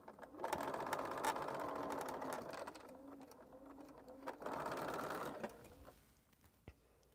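A sewing machine stitches a quilt unit in quick, steady bursts, pausing briefly between runs, fairly close and faint with no talk.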